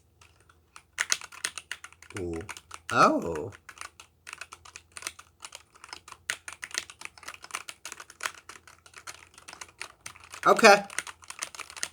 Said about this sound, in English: We'll pretend that I'm typing something now just for